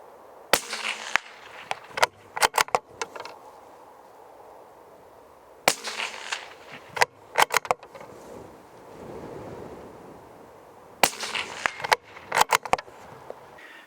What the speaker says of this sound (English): the clicks on the turrets every time you change magnification